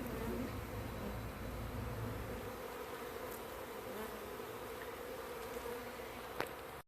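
Honeybees flying around inside a wooden shed, a continuous close buzzing drone of many wings at low, even volume with no voices.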